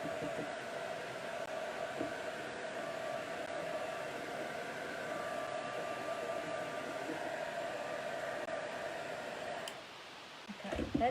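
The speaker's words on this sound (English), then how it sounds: "So heat gun again." A heat gun blows a steady, broad hiss while drying acrylic paint on a mixed media canvas, holding evenly for about ten seconds before cutting out, followed by light handling noises.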